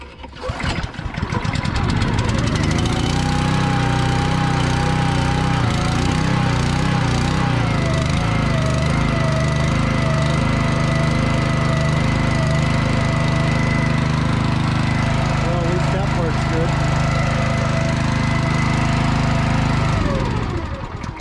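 Small engine on a skid sprayer mounted on a Ford F350 flatbed, started with a short crank and then idling loud and steady at close range for about twenty seconds before it cuts off.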